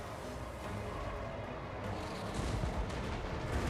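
Army units fire in a video game battle, a dense continuous roar of massed gunfire and artillery. It carries on steadily without a break and grows slightly louder toward the end.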